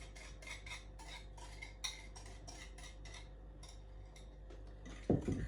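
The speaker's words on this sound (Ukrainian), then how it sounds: "тепер змішую яйця з опарою" Eggs being mixed into sourdough starter in a bowl for Easter paska bread, a steady run of light clinking and scraping strokes in quick rhythm, close and fairly soft, with a heavier knock near the end.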